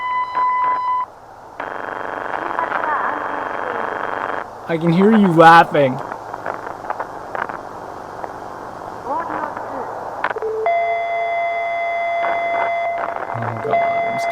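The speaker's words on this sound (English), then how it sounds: "Beeping. Wonderful beeping. Beeping's always good." Electronic beeps and steady computer-style tones come in separate sustained blocks, close and clear, while a person talks over and between them.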